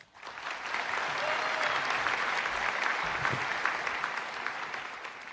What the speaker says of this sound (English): Why don't we have a round of applause?